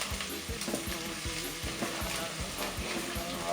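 Turmeric being stirred into a sizzling sauce in a pan, a steady close fry with repeated rhythmic scraping strokes of the spoon against the pan bottom.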